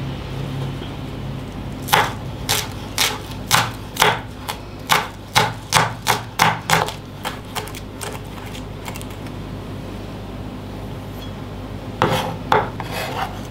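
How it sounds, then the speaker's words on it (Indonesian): Two celery stalks are chopped finely with a knife on a board, in a quick series of crisp, regular taps that come close and clear, then pause, then return for a short final flurry. "ada 2 batang daun seledri kita rajang halus"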